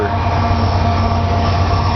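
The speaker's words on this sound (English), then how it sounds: "There goes the end of the train, look." The last cars of a passing train rumble by on the rails near a residential front yard, a steady, loud rolling roar with no break across the whole stretch.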